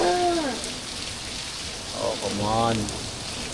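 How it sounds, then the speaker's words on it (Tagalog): Steady rain patters at a beach resort in Zambales, a dense continuous hiss of drops, while people talk briefly over it. "So it's raining in Zambales."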